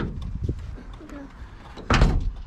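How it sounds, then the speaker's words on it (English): A door being shut with a single loud thud near the end, following quieter shuffling and indistinct voices, heard during a GU Patrol build in a workshop. "Door, you want the door shut?"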